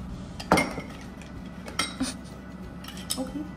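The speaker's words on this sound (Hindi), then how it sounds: "और सम आइस" Ice cubes drop into a glass for a summer drink, giving a few sharp, close clinks spaced out over a few seconds against a quiet background.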